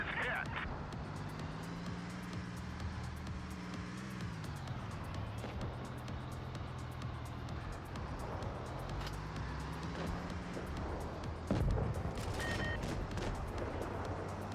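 A T71 light tank fires its gun in World of Tanks Blitz: a steady engine drone and battle noise run throughout, broken by one sharp, loud shot near the end.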